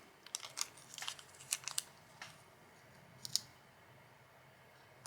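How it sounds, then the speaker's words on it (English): Small piece of Scotch tape torn from its roll and pressed on, heard as a run of sharp close clicks and crinkly snaps in a quiet room, with a final snap later on. "I'm going to put a little piece of Scotch tape."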